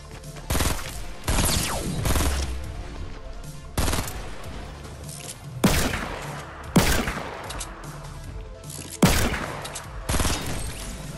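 Sniper rifle shots ring out in Fortnite, about eight sharp cracks spaced a second or two apart, each with a trailing echo, loud and close with no talk over them.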